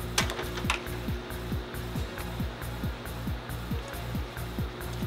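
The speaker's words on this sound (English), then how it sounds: "So we go ahead and loosen the threads a little bit." A wrench slowly loosens the threads on a rifle upper's barrel during installation, producing a steady run of close ratcheting clicks in an even rhythm over a constant mechanical hum.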